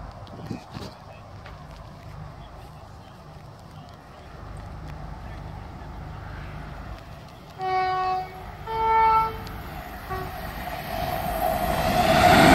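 A London King's Cross to Edinburgh train approaches a level crossing near Newark, its rumble building steadily and growing loud at the end, with two distinct horn blasts sounding partway through and speech faintly beneath.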